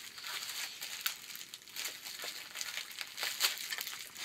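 Crinkly plastic packaging being unwrapped to reveal new parts for a pocket bike rebuild, a steady stream of soft rustling and crackling with a few sharper crinkles, close and fairly quiet, with no talking.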